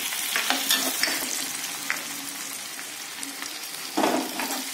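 Garlic, ginger and green chilies frying in hot oil for a spicy tomato pickle, with a steady close sizzle, occasional stirring scrapes and a louder burst of crackling near the end.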